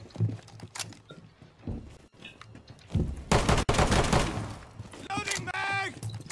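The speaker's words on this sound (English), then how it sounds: "Shooting this gun." Bursts of gunfire crackle through a match of the tactical shooter Rainbow Six Siege, loud volleys mixed with clatter and game effects, while players talk over the action.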